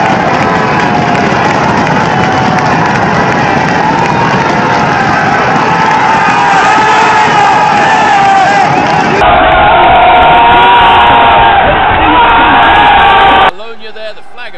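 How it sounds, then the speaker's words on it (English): Loud, dense crowd roar and cheering as Philippe Gilbert wins the 2011 Flèche Wallonne bike race. The sustained, close, unbroken din swells slightly before cutting off abruptly. "the crowd will go absolutely ballistic for Philippe Gilbert as he gets the win"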